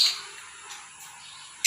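Pet birds let out a couple of short, sharp chirps close by, one at the start and another at the end, with quiet in between.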